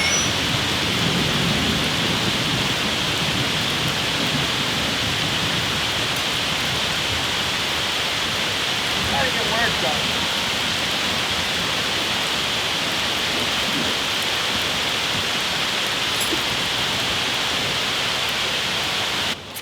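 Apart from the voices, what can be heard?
rain falling outside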